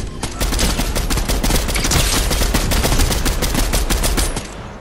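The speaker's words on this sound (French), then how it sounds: "ça tire juste en dessous, les amis" Loud, sustained rapid gunfire from the Fortnite video game, with shots hammering continuously in a steady dense rhythm throughout.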